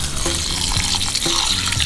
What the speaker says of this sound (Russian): Набираем воды и начинаем делать массаж рису.